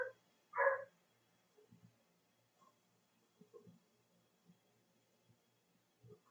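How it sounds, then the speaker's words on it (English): A dog that has just woken up gives one short, clear bark indoors, followed by faint scattered thumps and shuffling in a quiet room. "The dog has awakened."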